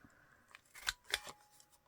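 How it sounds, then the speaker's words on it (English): Scissors snip through a sheet of white paper, a few sharp crisp cuts close to the microphone in a quiet room. "am going to cut a white piece of paper to go in there"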